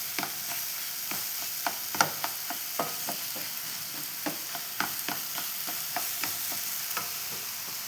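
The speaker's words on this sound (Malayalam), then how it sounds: "നല്ല അടിപൊളിയായിട്ട് വഴന്ന് വരട്ടെ നമ്മളെ പഴം." Banana pieces sautéing in a pan for a sweet pudding, with a steady low sizzle broken by frequent sharp scrapes and taps of a spoon stirring against the pan, close and alone without talk.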